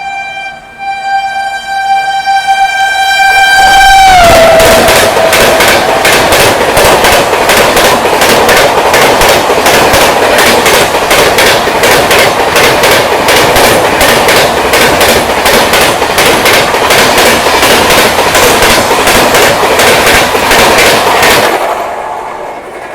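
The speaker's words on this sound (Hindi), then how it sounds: "ये आ गई भाई साहब हावड़ा राजधानी एक्सप्रेस ओवरटेक करने।" Howrah Rajdhani Express thundering past at close range as it overtakes, horn blaring at the start, then a long loud roar of wheels clattering over rail joints that fades off near the end.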